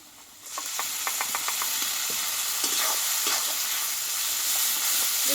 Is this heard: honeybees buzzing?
no